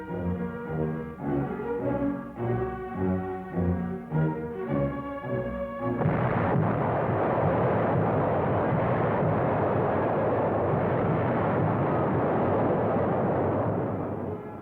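WWII American Fifth Army artillery barrage opens with a heavy rumbling roar that swells and holds as a dense, continuous boom, preceded by orchestral music.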